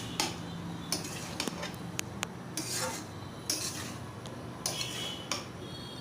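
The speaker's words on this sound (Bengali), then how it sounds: "তারপর সেটাকে ভালোভাবে নেড়ে দিব।" A utensil stirs sliced papaya through spice masala in a pan, giving light scraping and clinking against the metal in uneven bursts, with soft sizzling underneath.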